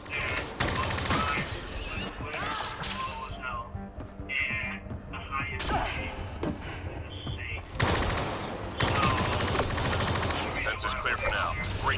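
Dense, loud gunfire in a PS4 shooter game, with rapid automatic bursts and volleys that come and go in waves, almost unbroken across the stretch, with a voice heard at times.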